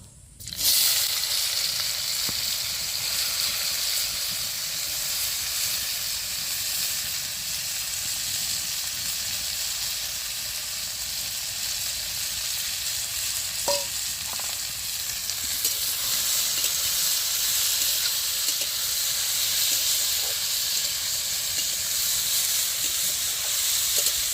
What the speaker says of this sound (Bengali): এখন উচ্ছাগুলো ভেজে নেব